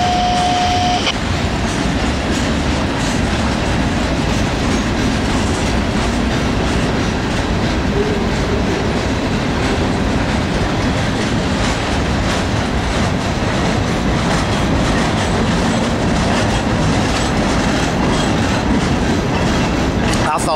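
A long, slow freight train with several locomotives rolls steadily past at close range, wheels clacking rhythmically over the rails in a loud, continuous rumble.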